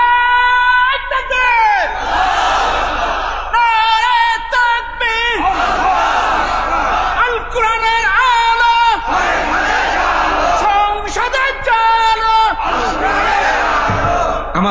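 A large crowd at a Bengali religious sermon in Jhenaidah chants takbir in repeated loud call-and-response bursts, roughly every two seconds, voices swelling and fading in unison across the whole stretch.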